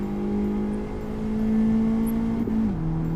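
A car engine in Gran Turismo 7, fairly quiet, holds a steady droning hum that rises slightly, then drops in pitch near the end as if shifting or easing off, continuous and unaccompanied by speech.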